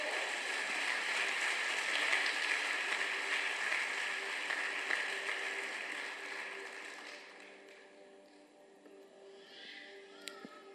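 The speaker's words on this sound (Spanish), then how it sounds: "Dale un fuerte aplauso al Señor por eso." Congregation giving a loud round of applause to the Lord during a church service, a dense roar of clapping over a held keyboard tone that gradually fades away toward the end.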